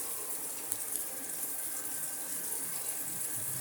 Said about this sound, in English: And let's turn the water on here.